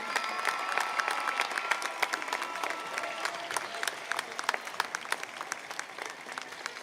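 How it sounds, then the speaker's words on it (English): Steady applause from the crowd at a high school commencement ceremony honors the top scholars, with dense, even clapping that holds throughout and shows no break. "Please applaud for our top scholars who did amazing work."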